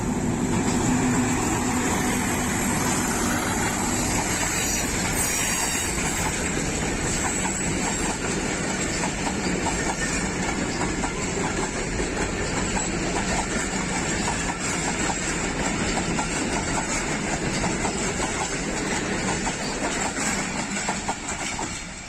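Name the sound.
Pakistan Railways express train with HBU-20 locomotive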